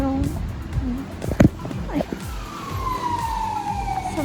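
An ambulance siren sweeps through busy street traffic in Malta, a long descending wail rising over engine rumble and passing vehicles, with people talking nearby.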